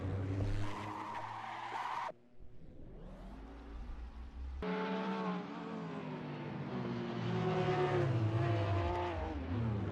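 A GT3 race car spins out and skids at Spa in Assetto Corsa, with long tire squeal and sliding noise, a brief drop in sound, then engine revving back up as other cars pass.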